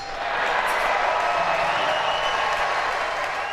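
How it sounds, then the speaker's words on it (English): A large audience breaks into sustained applause for Donald Trump at a campaign event, steady dense clapping that swells in and holds loud throughout with a faint crowd murmur beneath. "When everyone started applauding, they just like applauded him."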